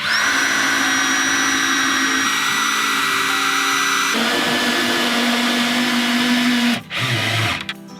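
A power driver sinks 2.5-inch Strong-Drive SD connector screws into a timber fence post during an E-Z Mender post repair, a loud steady whine with shifting pitch running close and continuous for several seconds before a brief drop near the end.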